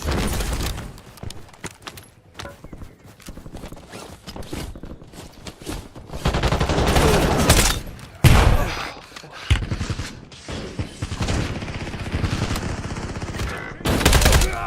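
Rapid automatic gunfire in the video game Call of Duty Warzone, with dense bursts and sustained firing interspersed with footsteps and game effects, loud and continuous throughout.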